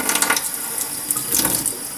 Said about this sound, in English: you can just gently use a cup or something and rinse off the leaves